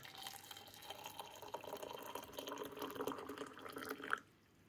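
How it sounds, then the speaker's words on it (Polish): Hot water pours steadily over a dried elder ear mushroom, a continuous close splashing and trickling of liquid that stops abruptly at the end, with no talk. "Także zalewamy jednego gorącą wodą."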